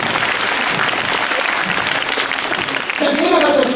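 Theme park crowd at Universal Studios Japan claps together in a loud, dense sustained burst, with voices calling out over the clapping toward the end.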